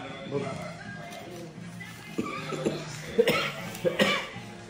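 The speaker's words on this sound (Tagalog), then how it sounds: "May ubo kayo eh." A few sharp coughs burst out over ongoing close conversation, spaced irregularly across the clip.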